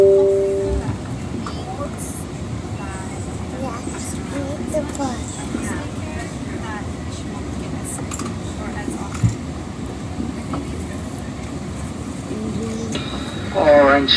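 Inside a Metrolink Orange County Line commuter train under way between Los Angeles and San Juan Capistrano, a steady rumble of wheels on track with occasional squeals and clicks, while a voice announcement and chatter sound over the running noise.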